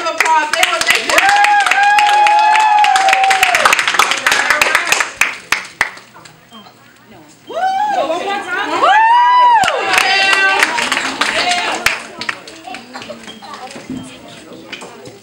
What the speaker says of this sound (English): Please give the kids a round of applause.